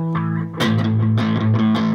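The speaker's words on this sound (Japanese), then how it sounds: "これフランジャーってやつをかけた" Electric guitar run through a flanger effect, with sustained distorted chords and notes ringing out loud and close, picked in a loose rhythm with no talking.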